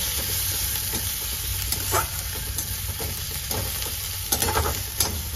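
Onions sizzle steadily in hot oil with Kashmiri chilli stirred in, for a raw jackfruit curry. The frying noise is constant and close, broken by occasional louder spatters and spoon scrapes.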